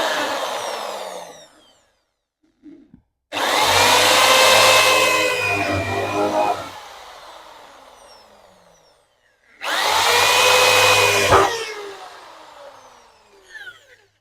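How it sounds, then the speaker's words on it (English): An electric drill with a 6.5mm bit bores holes while a wide arch wing is fitted to a Ford Fiesta: two long, loud whining bursts separated by a pause, with brief quiet clicks between. "I'll just drill a couple of holes here"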